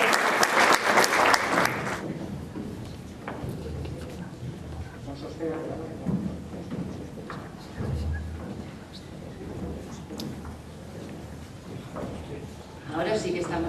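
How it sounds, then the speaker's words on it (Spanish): An audience at an international music performance prize ceremony breaks into loud applause for the finalists, which quickly fades beneath a room of murmuring voices and shuffling. "Un aplauso"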